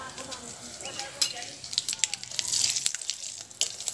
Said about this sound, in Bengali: ফোড়নটাকে ভালো করে ভেজে নিতে হবে।